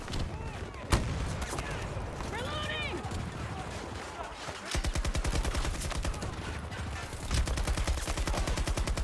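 Sustained light machine gun fire in the shooter game Battlefield 2042, with long rapid bursts of rhythmic shots, a lull carrying a brief whistling whoosh, then loud continuous firing resuming.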